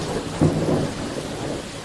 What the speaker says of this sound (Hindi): शदीद बारिश हो रही थी